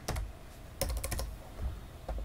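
Someone types on a computer keyboard, entering school details into an online form for ordering exam papers. Quick clusters of close, clicky keystrokes with short pauses come through clearly, with no voices.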